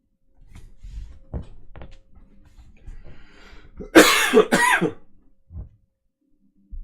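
Two loud, harsh coughs in quick succession, close by, following some faint shuffling and small knocks, then a soft thump.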